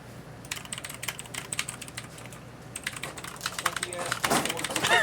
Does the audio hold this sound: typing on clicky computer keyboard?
yes